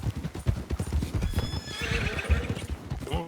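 Horses gallop and neigh in a video game, fast clip-clopping hoofbeats throughout with a loud whinny rising near the middle and another at the end, close and busy.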